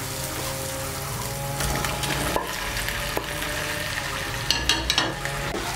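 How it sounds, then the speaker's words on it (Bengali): Fried potatoes and sweet pumpkin being stirred into oil-glazed spice paste in a pan: continuous sizzling under the scrape and clack of a spatula, with a few sharper metallic knocks near the end. "আলু আর কুমড়োগুলোকে মশলার সঙ্গে মিশিয়ে নেব। মিশিয়ে নিয়ে একটু ভালো করে কষিয়ে নেব মশলার সঙ্গে।"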